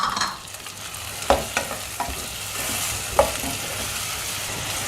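Onions sautéing in a pan for a vegetable nethili fish curry, with a steady broadband sizzle throughout and several sharp spoon scrapes and taps against the pan as they are stirred, close and alone.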